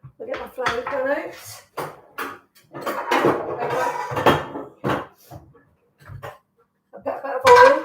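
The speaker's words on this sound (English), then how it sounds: "I'll get my frying pan out." Frying pan taken out and handled in a home kitchen while butternut squash and red pepper soup is made, a few clanks of pans and cutlery between stretches of talk.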